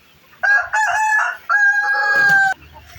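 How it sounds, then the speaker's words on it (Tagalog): A Basilan crossbreed rooster crows loudly and close, a strong drawn-out cock-a-doodle-doo in two long, ringing bursts with a short break between them. "Yan ang crossbreed kong basilan ng mga manok guys."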